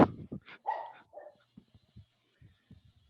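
A dog at home barks several times in quick, loud bursts, then trails off into softer whimpers and small grunts.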